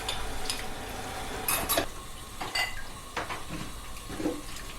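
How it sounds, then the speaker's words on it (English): Dishes get scrubbed at a kitchen sink with a scrub brush, with clinks of plates and cutlery and scraping, brushing strokes over a low background of running water, no talking. "I'm gonna take this time to just do some dishes."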